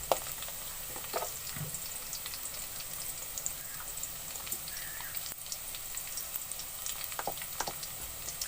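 Potatoes and spinach with whole red chillies fry in a pan, giving a continuous soft crackling sizzle with scattered small pops and an occasional faint stir.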